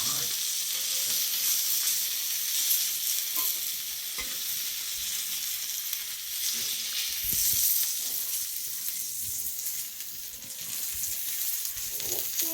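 Four bangda mackerel fry on a wood-fired chulha in a steady, close hiss and crackle of hot oil, with faint scrapes and a few soft knocks, and no talking.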